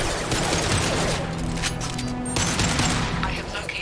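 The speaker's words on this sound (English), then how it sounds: "Firing an impact shot." Weapon fire in Mass Effect 2, a dense stretch of loud shots and crackling blasts over a continuous rumbling background, with no gaps.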